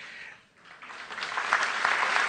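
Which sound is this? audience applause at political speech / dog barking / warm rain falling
audience applause at political speech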